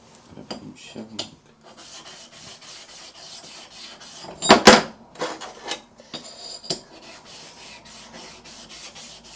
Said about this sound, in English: you're not pushing the blade on the same part of the stone